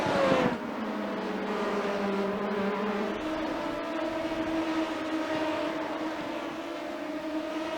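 An LMP2 prototype race car in a racing video game at Watkins Glen International roars past close by. The engine whines loudly and the pitch drops as it goes by, then a steady engine drone holds with no talk.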